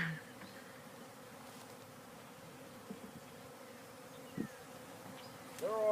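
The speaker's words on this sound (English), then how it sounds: "Sorry for the movement, guys, but the bees are all around my head." Honeybees buzz around an open brood box fitted with empty frames, a faint steady drone with a few individual bees zipping close past the listener, loudest at the very end.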